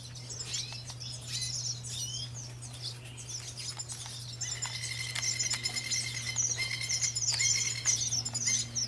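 Red siskins, small caged finches kept without colour food, give high twittering calls and chirps that build and overlap through the second half, over a steady low hum.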